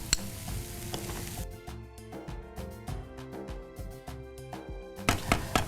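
Spring onions sizzle and fry in a pan on a gas stove, a steady close crackle with scattered stirring and utensil clinks, brief louder bursts near the end.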